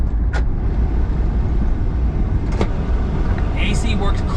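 Steady low road rumble inside a moving Honda Street kei van with an automatic transmission, continuous and fairly loud from start to end, with the AC running and a few brief higher clicks over it.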